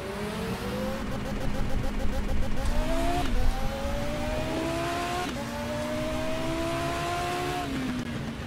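A race car in the sim racing game Race07, STCC series at Falkenberg, accelerates hard with engine pitch rising through repeated gear shifts, loud and steady, with faint voices under it.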